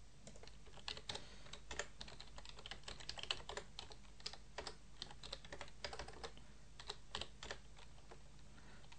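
Quiet, rapid clicking of a computer keyboard being typed on, a continuous irregular patter of keystrokes close by with no voices.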